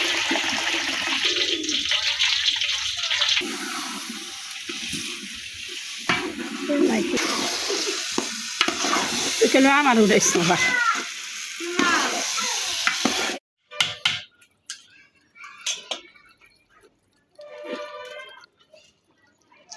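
Biryani made with about 3 kg of meat sizzles and fries in a pan while being stirred, a loud continuous scraping hiss that cuts off near the end, with a few spoken words over it.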